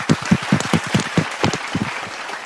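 Brief applause during an online morning devotion as a national leader is welcomed: a handful of people clapping in uneven bursts, dense at first and thinning out by the end.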